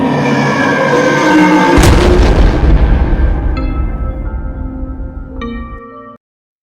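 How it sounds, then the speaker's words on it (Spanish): A loud explosion sound effect in an audio drama, a deep rumbling boom that swells and rolls on for several seconds before cutting off abruptly, with no voices. "acompañado de una fuerte explosión"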